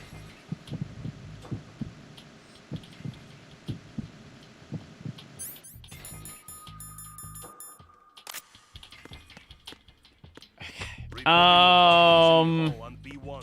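A heartbeat effect from the Metal Gear Solid 2 video game thumps in a steady low rhythm for several seconds, followed by game interface beeps and then a loud burst of sound.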